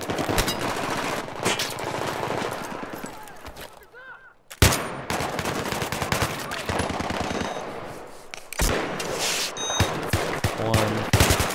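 Automatic weapons in the shooter game Battlefield 3 fire loud, rapid bursts of gunfire, cut by a brief near-silent gap partway through before the shooting resumes just as intensely.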